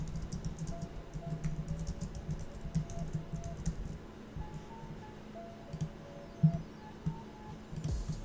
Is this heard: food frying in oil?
no